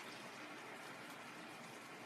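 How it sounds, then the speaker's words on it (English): Tomato sauce poured into a pan of well-cooked onions for penne al sugo di pomodoro, a steady, close, continuous wet gushing and hissing pour with no talk. "I'm going to pour in the sauce,"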